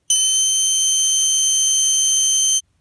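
A loud, steady electronic horn tone from a Snap Circuits kit sounds continuously for about two and a half seconds, then cuts off abruptly.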